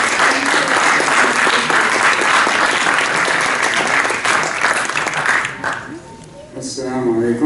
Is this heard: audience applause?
yes